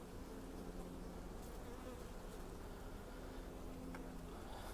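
Honey bees buzz around an open nucleus hive during installation, a dense, steady droning hum close by, constant for the whole stretch with no talking.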